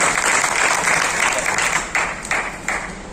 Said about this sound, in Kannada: ತಮ್ಮೆಲ್ಲರ ಜೋರು ಚಪ್ಪಾಳೆ ಅವರಿಗೆ.